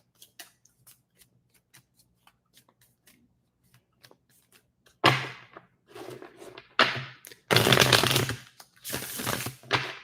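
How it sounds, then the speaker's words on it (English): Tarot cards are reset and shuffled up close, starting with light scattered taps and riffles, then giving way to several loud, dense bursts of shuffling toward the end, with no voice. "Let me just go ahead and reset the cards"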